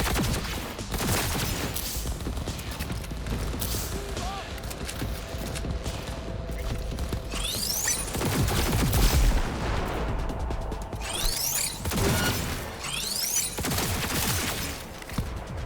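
A gun fires in Cyberpunk 2077 in loud, rapid volleys, with heavy bursts crackling over a constant background of combat noise and booming impacts, several distinct flurries spread across the stretch.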